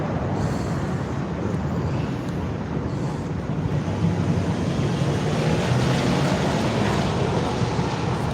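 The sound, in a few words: wind blowing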